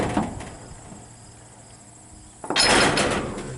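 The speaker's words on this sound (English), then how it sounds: "the door pushes open with the silage" A door on a silage truck, an L9000, swinging open as the unloading apron runs, a sudden loud rush of sliding material and metal clatter starting partway through after a quieter hum.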